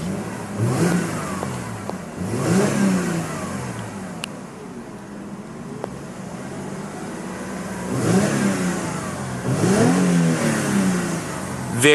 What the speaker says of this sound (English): Very smooth V6 with an excellent sound to it